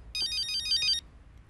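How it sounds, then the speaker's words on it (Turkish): Mobile phone ringtone sounding alone at close range: a bright electronic melody of repeating tones lasting about a second, then stopping into quiet room noise. "Abla, telefonun çalıyor."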